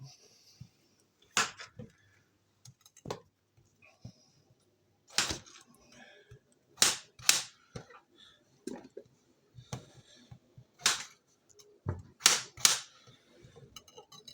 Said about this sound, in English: What I'll do is cut the potatoes up.